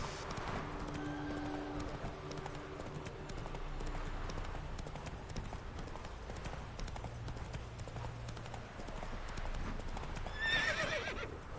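Horse hooves clip-clopping at a steady gait in The Witcher 3: Wild Hunt video game, followed by a sharp whinny near the end; a faint voice speaks briefly in the background.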